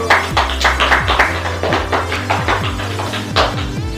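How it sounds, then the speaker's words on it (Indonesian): Classroom applause for a student's good answer, a quick uneven patter of students' hands clapping close by, repeated sharp claps over a low hum, with no one speaking. "Kita berikan aplaus terlebih dahulu"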